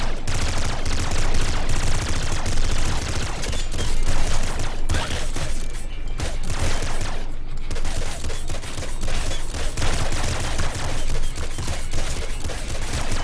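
Rapid, continuous laser minigun fire from the top-down shooter game Nuclear Throne, a dense, loud stream of electronic zaps and blasts running the whole stretch with no talk over it.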